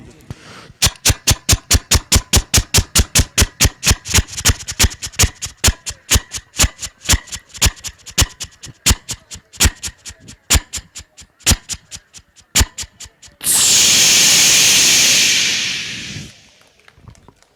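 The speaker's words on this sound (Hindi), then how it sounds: "इंजन बड़ी तेजी से चल रहा होता है, अचानक उसके अंदर डीजल खत्म होता है और वो इंजन बंद होता है।" Rapid, evenly spaced engine knocks from a diesel engine running fast, the beats loud and close before the engine cuts out; a burst of hissing noise follows the stop.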